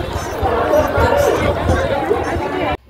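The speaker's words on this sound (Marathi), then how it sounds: "ही बघा गर्दी." A dense crowd at the Vitthal temple on Ashadhi Ekadashi fills the air with continuous overlapping chatter and babble. The sound is close and loud, then cuts off abruptly.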